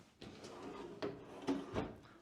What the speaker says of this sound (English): They are soft close. Check the drawers.